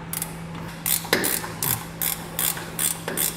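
Ratchet clicking away on old nylon lock nut bolts holding trailer safety chains at the coupler, a steady close run of rapid pawl clicks with no talking.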